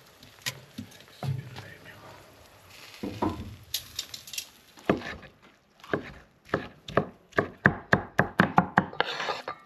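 A knife slices through zucchini on a cutting board in a quickening series of sharp, close taps, alongside lamb ribs being grilled on a rack, with a voice speaking briefly between cuts.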